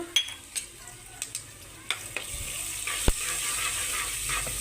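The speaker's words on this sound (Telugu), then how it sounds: "స్టవ్ మీద కుక్కర్ పెట్టేసుకొని ఇందులో ఆయిల్ అయితే వేసేసుకున్నాను ఆయిల్ వేడైన వెంటనే మనం నువ్వులు వేసేసుకుందామండి" Sesame seeds sizzle in hot oil inside a pressure cooker on a stove, a steady bright crackling hiss that swells after a few light taps and one sharp knock, close and without speech.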